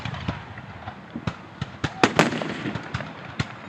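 Fireworks burst overhead during an outdoor firework show, a string of sharp pops and crackling bangs arriving at irregular intervals with several louder booms clustered in the middle, fairly close and clear, with faint voices in the background.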